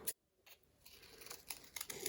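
Scissors cutting paper hearts for a kids' pop-up card craft: close, quiet snips and rustling paper, coming faster and denser toward the end, with no voices.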